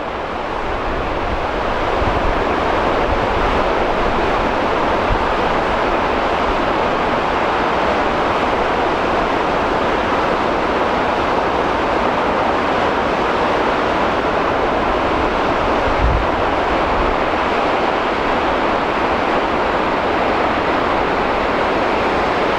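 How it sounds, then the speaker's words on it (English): River water rushing steadily just upstream of a bridge before pouring over a falls, a dense, continuous roar that holds loud and unbroken throughout, with no voices. "This is the water on the other side of the bridge before it comes over the falls."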